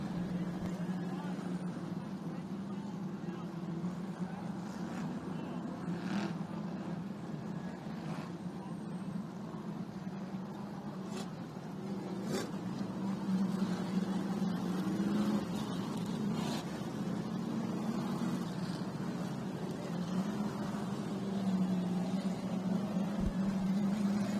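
A NASCAR Whelen Modified race car, the East-West Marine Supply number 88, drones steadily at Riverhead Raceway, a continuous engine roar that swells slightly later on, with crowd and commentary murmur underneath.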